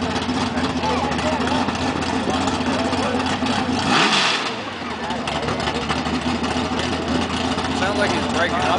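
A dirt track race car at Shorty's Hollow idles and revs, loud and close, dipping and breaking up in the middle before the engine picks back up.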